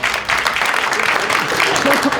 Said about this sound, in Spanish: Lo despedimos a los tres que quedan en la mesa con un fuerte aplauso